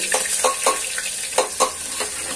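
Steady sizzling of minced garlic frying in hot oil, with a spoon scraping and stirring the pan in irregular strokes, close up.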